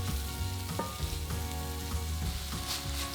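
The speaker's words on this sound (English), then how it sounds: "Cook for 3 to 4 minutes until the vegetables start to soften." Onion, celery and sliced red pepper strips frying in a pan for a one-pot Spanish chicken and rice dish, giving a steady, dense sizzle with faint stirring, close and continuous, with no talking.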